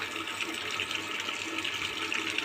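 Water running steadily from a tap with a motor pipe pushed into it, a soft continuous gushing and splashing at close range with no voices.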